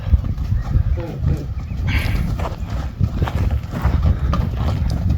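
A horse foal moves about on a farm, hooves clip-clopping irregularly on the ground with scuffling and a brief whinny, fairly close, while people talk faintly nearby.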